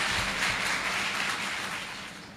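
An audience at a speech competition applauds a participant, a broad wash of many hands clapping together, steady and fairly close before thinning out slightly toward the end.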